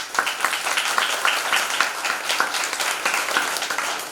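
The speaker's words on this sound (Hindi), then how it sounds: "ताली तो बजा दो।" An audience applauds at a devotional Janmashtami discourse, steady dense clapping from a crowd lasting throughout, moderately loud with no speech over it.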